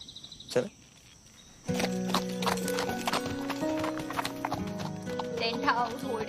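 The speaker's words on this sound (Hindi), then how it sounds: "तुम्हें घोड़ा चलाना नहीं आता ना?" Horse hooves clip-clop steadily at close range, and a horse neighs during a riding scene in a Hindi film, with music and a brief sharp sound at the start.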